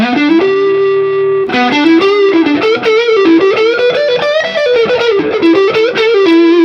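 Distorted Stratocaster electric guitar plays a sequence of overdriven chords, loud and sustained, with a gritty edge and brief pauses between strums.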